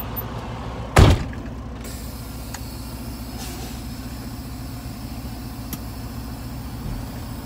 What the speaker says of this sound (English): So I'm going to get back in the truck and I'm going to drive forward